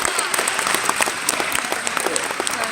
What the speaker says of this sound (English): Can we give a huge round of applause to Terrence Talley?